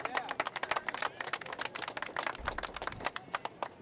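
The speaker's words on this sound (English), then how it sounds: "Give a round of applause." A small crowd at a labor coalition press conference in Los Angeles claps in quick, uneven bursts, the applause sounding moderately close and continuing steadily.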